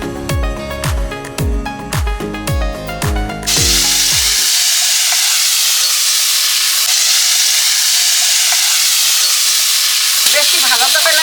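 After a few plucked musical notes, okra hits hot oil in a wok and sets off a loud, steady sizzle that hisses on close and unbroken for several seconds.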